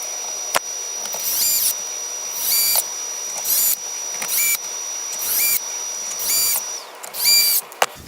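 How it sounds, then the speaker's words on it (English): A small electric screwdriver drives eight screws back into the top deck of a Traxxas UDR RC truck, whirring in short repeated bursts of about a second each with brief pauses between. "Now I'm going to put the 8 screws back in place"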